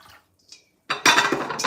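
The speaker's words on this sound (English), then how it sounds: "Pour this a little bit of water in." Water pours into a kitchen vessel during home cooking of roast pork, a sudden loud splashing gush after a couple of faint clinks, close up.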